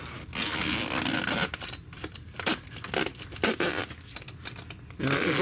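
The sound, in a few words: opening the zipper on a Vermibag worm compost bag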